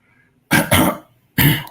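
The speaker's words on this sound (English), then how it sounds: "clear his throat." Someone close by clears their throat loudly: a quick double rasp, a short pause, then one more harsh burst.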